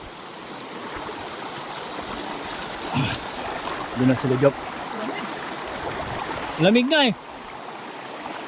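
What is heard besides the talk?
river stream flowing during a river crossing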